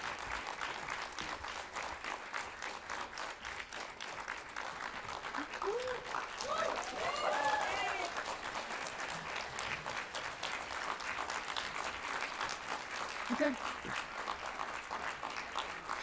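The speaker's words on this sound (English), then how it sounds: "Can we have a big round of applause for Mr." Faint, steady applause from a film festival audience welcoming a guest to a Q&A, continuing under some scattered voices and a brief cheer.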